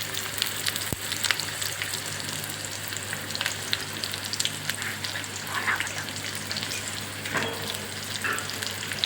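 Tomatoes and onions frying in very hot oil while being stirred with a spatula: a steady, crackling sizzle close by, with scattered sharp clicks of the utensil against the pan and no talking.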